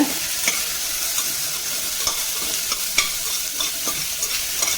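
Small bitter gourd sautéing with salt in a pan over a low flame gives a steady close sizzle, with light stirring scrapes and taps at irregular intervals throughout.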